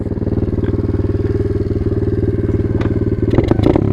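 An Apollo 125 RFZ Chinese dirt bike engine runs steadily under way with a continuous, pulsing single-cylinder drone and close, loud rattly clatter that swells briefly near the end.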